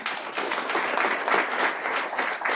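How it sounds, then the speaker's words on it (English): An audience at a sports diversity summit gives a round of applause, dense, steady clapping from a roomful of people lasting a couple of seconds, close and fairly loud. "Let's give her a round of applause"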